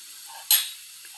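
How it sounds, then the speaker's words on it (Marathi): Chopped garlic and oregano hit hot oil with a sudden burst of sizzle that fades quickly back into a quiet background hiss. "तर इथे आपण घालूया चिरलेला लसूण."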